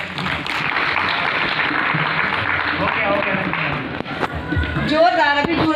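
An audience at an award ceremony breaks into loud, sustained applause, the dense clapping filling the space with a voice speaking over it near the end.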